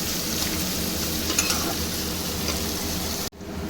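Onions fry in oil in a pan for a quick chicken curry, a steady close sizzle with scattered crackles and stirring scrapes that cut off abruptly near the end.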